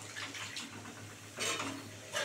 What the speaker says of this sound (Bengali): এই যে মিক্সি ধোয়া জলটা দিয়ে দিচ্ছি